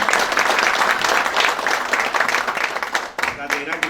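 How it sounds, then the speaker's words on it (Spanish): An audience at a speech event in Ecuador breaks into loud applause for a speaker, with dense clapping that cuts off abruptly near the end as a voice begins. "Aplausos para él."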